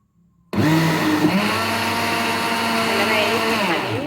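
After a brief quiet moment, a kitchen blender starts abruptly and runs steadily with a loud, whirring motor whine as it grinds lentils, the pitch holding even without pause.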